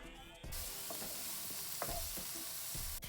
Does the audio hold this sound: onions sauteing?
yes